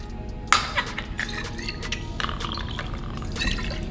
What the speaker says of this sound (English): You pour it from bottle with a pour spot into this part